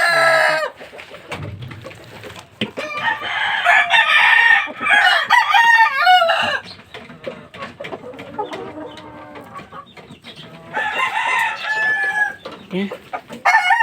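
Gamecock roosters crow repeatedly and cluck close by, several loud calls overlapping across the stretch with no talking.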